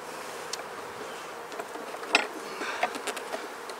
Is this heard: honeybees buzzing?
yes